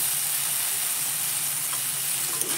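Cut potatoes sizzling steadily in a pan with cumin powder and black pepper powder for ghugni, a continuous loud hiss with no pauses and no one talking.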